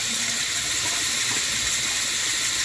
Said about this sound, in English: You want me to rinse your face this time?